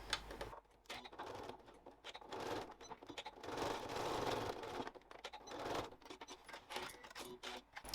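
A sewing machine stitches through a fabric wallet, a steady run of rapid mechanical patter lasting most of the time with brief pauses, close and moderately loud, with no talking.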